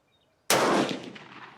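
A single loud, close gunshot from a Swiss K31 rifle at an outdoor shooting range, with a sharp crack followed by a fading echo.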